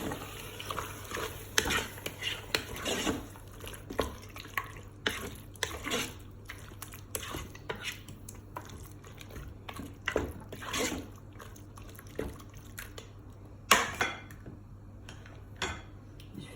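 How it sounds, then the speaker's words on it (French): Chicken and mushroom pie filling being stirred in a Cookeo multicooker, with soft irregular scraping and wet squelching strokes over a low steady hum, faint and close. "Et je vais venir mélanger le tout."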